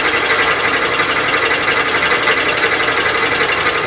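A fly cutter on a Bridgeport milling machine skims metal, producing a loud, close, rapid rhythmic chatter that stays continuous and even throughout, with no talk.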